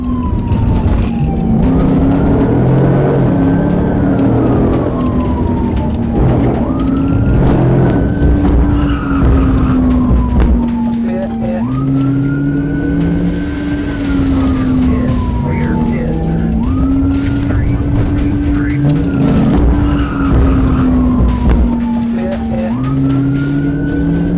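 A car fleeing a police traffic stop at high speed through red lights, engine roaring steadily while tires squeal in repeated rising and falling skids, loud and continuous throughout with a siren-like wail mixed in.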